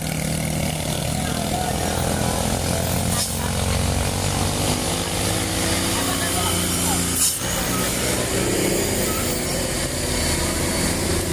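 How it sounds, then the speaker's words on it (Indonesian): A trailer truck brakes on the road ahead in East Java, its engine and brake noise forming a loud, dense rumble heard from inside a moving vehicle, with a brief hiss or pop partway through. "itu di depan ada sebuah tergandeng yang lagi ngerem"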